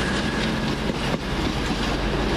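A Class 220 train roars past at Warrington, close and loud, with a continuous rumble and rushing wheel noise.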